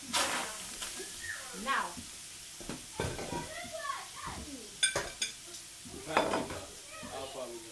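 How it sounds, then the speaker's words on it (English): Chicken frying in a Saladmaster pan pops and crackles, with scattered sharp spits, under a voice and other talk nearby. "A frying sound."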